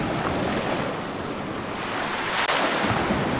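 Stormy ocean waves churn and roar loudly and continuously, with heavy surf wash and gusty wind noise and no voices.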